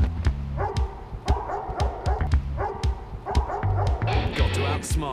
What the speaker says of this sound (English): Got to outsmart the dogs.